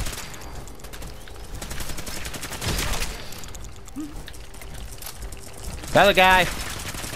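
Automatic weapon fire in Fallout 4 crackles in short rapid bursts amid a busy game soundscape, with someone talking over it and a sharp tonal effect near the end.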